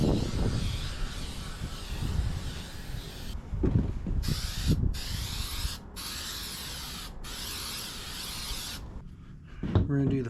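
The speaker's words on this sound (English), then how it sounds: "I'm going to take it outside and spray it with the aerosol adhesive" Aerosol adhesive sprayed outdoors onto a 2019 Honda Africa Twin motorcycle seat in several sharp bursts of hissing, separated by brief pauses, with rustling and handling noises nearby.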